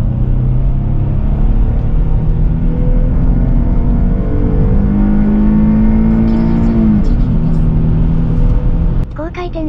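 A 2008 Jaguar XF sedan engine revs with a deep, throaty, burbling rumble that rises in pitch and falls back, loud and steady throughout, with a voice speaking over it.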